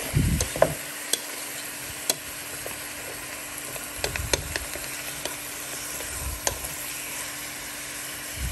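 A spoon stirs chicken tinola with chayote and malunggay in a pot, giving soft scraping strokes and sharp metallic clinks against a steady simmering hiss, with no talk.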